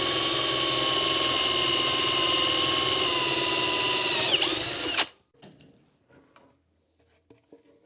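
A power drill fitted with a 2.5 inch core bit bores a hole through a wooden board, a loud steady whine with a falling pitch near the end, then cutting off abruptly into near silence with a few faint knocks.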